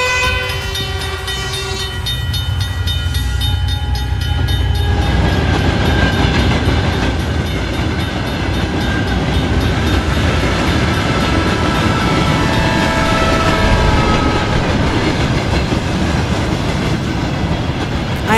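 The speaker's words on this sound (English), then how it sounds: "Now I have to wait for the train to pass." A train rolls past a closed railroad crossing in a cartoon, starting with a short horn blast and then a loud, steady roar of rumbling wheels and carriages that continues to the end.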